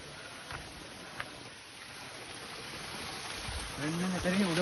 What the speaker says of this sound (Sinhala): වතුර පාර තියෙනවා මෙතන.